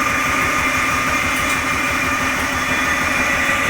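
An engine driving two pig-farm fan motors runs at a steady idle with a constant droning hum and mechanical whir, close by and unchanging throughout.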